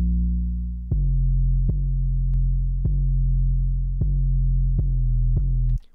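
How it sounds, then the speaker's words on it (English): Sustained 808 bass notes without EQ, a deep booming tone retriggered about six times in a steady rhythm, each hit with a short click at the attack, loud and alone. "Without the EQ, the 808 sounds like this."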